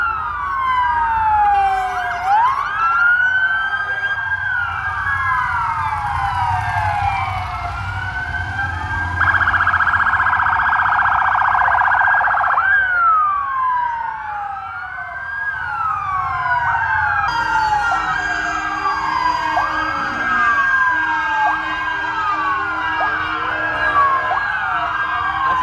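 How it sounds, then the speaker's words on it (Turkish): Police and gendarmerie vehicles blare wailing and yelping sirens in a long, loud, overlapping chorus as they tour city streets in a children's holiday parade. "sirenler eşliğinde bayramı kutladı"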